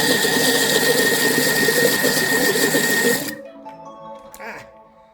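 A kitchen machine whirs loudly while mixing spanakopita filling, a steady close motor drone that cuts off abruptly after about three seconds, followed by a brief faint clatter.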